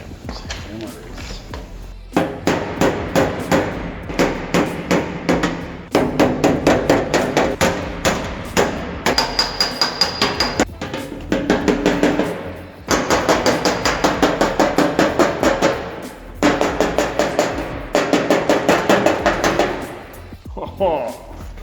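A metal car fender on a Mazda Miata is hammered out in rapid runs of sharp, loud blows, grouped in bursts with brief pauses, close and ringing.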